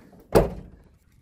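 The passenger door of a first-generation Cummins crew cab truck swings shut with a single solid, close thunk that fades quickly into a quiet garage.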